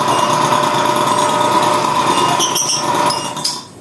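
A coin-operated car wash vending machine with hose reels runs its pump on wash mode, a loud steady droning whine that holds for several seconds and then drops off at the end.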